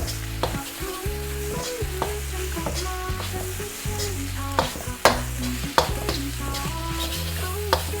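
Crab fried rice stir-fried in a hot pan, a close sizzle punctuated by rhythmic scraping and clanking of a spatula against the metal, no voices.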